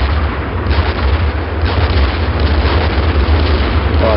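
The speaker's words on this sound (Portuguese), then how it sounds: "Ai, caralho, artilharia." Heavy artillery fire in a combat video game, a continuous loud rumbling barrage of deep booms and blasts filling the whole stretch without pause.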